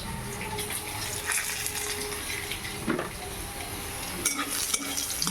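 Lentil dumplings (bori) frying in hot oil, a dense continuous sizzle with scraping and occasional clatters of a utensil stirring in the pan, no speech.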